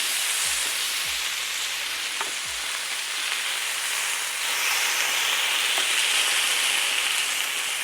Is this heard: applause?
no